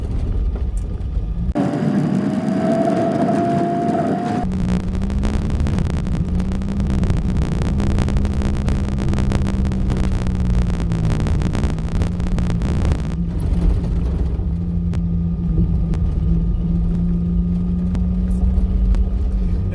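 An off-road rig rattles along a washboard dirt road, a constant close drone of engine hum and rumbling vibration with a steady tonal whine and brief changes in pitch.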